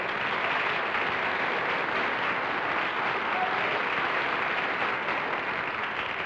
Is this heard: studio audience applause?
yes